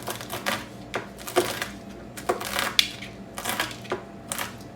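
A knife roughly chops almonds on a cutting board, giving irregular clusters of sharp knocks and crunchy taps, close and fairly steady, with no speech.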